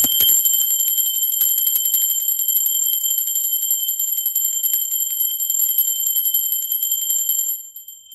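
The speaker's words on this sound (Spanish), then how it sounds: "¡Va campana!" A bright bell rings with a sustained high metallic tone, rapid striking at the start, then a long ringing that cuts off near the end.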